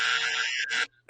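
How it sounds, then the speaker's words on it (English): A wrong-answer buzzer on a podcast about WCW Halloween Havoc 1994 blares like a semi-truck horn, one loud sustained honk, then a brief silence and the start of another burst. "Was that a semi-truck? That was a wrong buzzer."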